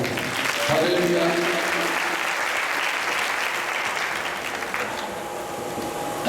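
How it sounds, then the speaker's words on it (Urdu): Loud, sustained applause from a church congregation during an all-night Pentecost prayer service, dense clapping filling the whole stretch at a steady level with a faint crowd murmur beneath. "زوردار تالیاں"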